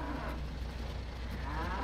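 Cattle in Farming Simulator 19 low at a feedlot stocked with yearlings, a dense, steady lowing under a constant background drone with no talk.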